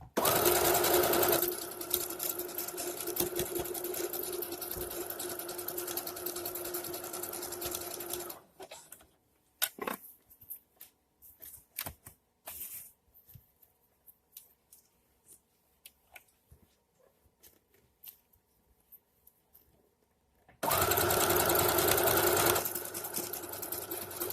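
A sewing machine zigzag-stitches elastic onto a pair of DIY shorts in steady, loud whirring bursts at the start and end, with quieter ticks and handling noises between runs.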